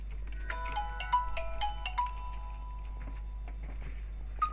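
A phone ringtone plays a bright series of short melodic tones, a quick run of notes followed by a sustained tone, moderately loud over a steady low hum.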